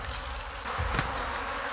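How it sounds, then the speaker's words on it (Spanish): Dense, steady buzzing of many honey bees inside a hive box, close by and continuous, with a brief louder swell near the middle. "pueden darse cuenta que dentro de la caja aún tiene pues muchas abejas"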